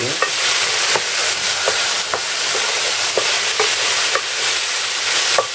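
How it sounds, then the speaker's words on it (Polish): Onion and mushrooms fry in a pan for a quick beef stroganoff goulash: a steady, loud, hissing sizzle with scattered spatula clicks and scrapes throughout, and no voices. "I zaczynam już smażyć tą cebulę, to wszystkie warzywa. I teraz obsmażam to 2-3 minuty."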